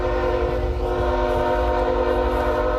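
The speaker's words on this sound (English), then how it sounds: "A CN rail engineer sounds his horn time and time again." A CN Rail freight train's horn blares continuously and loudly, a sustained harmonic tone over low rumbling rail noise, sounded again and again during a track blockade by protesters.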